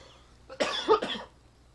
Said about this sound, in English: Oh man, I've been coughing a bit today